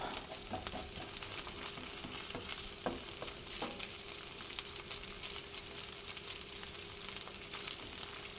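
Cooked rice with chicken fries in oil in a pan, giving a steady, fairly quiet sizzle with light crackles and occasional stirring scrapes throughout.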